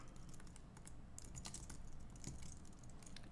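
Steady typing on a computer keyboard, a continuous run of light, quick key clicks at close range against a faint background hum, with no voices.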